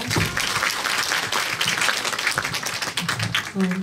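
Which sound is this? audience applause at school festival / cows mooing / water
audience applause at school festival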